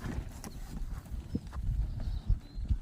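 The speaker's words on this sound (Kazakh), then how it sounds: "Малыш деген айғыр" A stallion moving about, hooves thudding and clopping irregularly on the ground at close range, soft and uneven, with faint background noise.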